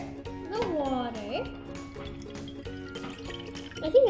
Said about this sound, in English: First, you pour the water.